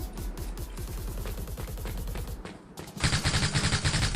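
Automatic gunfire rattles at a target range in the mobile shooter game Power Zone, loud rapid bursts of game shots that pause briefly, then resume in a sharper, brighter volley.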